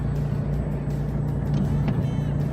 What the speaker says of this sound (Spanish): espero que el ruido de fondo del auto no afecte la grabación